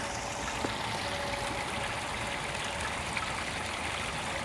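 Steady trickle of water from a peeing statue fountain splashing into a garden fish pond, a continuous close babble with no talking.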